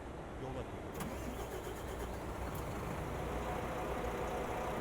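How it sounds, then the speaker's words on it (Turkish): A MAN Lion's Coach bus engine in Euro Truck Simulator 2 cranks and fires up, then settles into a steady mid-pitched idle, with someone talking briefly over it. "Önce bir araç çalışsın."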